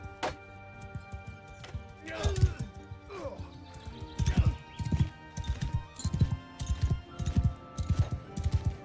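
Horse hooves in Mount & Blade II: Bannerlord, a rhythmic clip-clop of a ridden horse building into a steady trot, fairly close, with a few scrapes and thuds early on.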